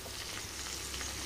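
Amaranth, fenugreek and coriander leaves fry together in a pan, giving a soft, steady sizzle close by with faint crackles throughout and no voices.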